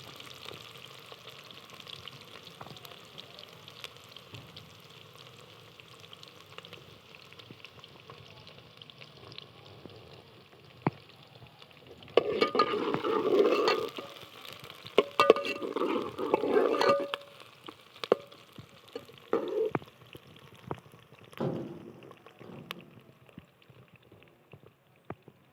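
Onions fry in a pan for beef salan, a low bubbling sizzle that swells in the middle with a few stirring clatters, then fades back to a quiet hiss.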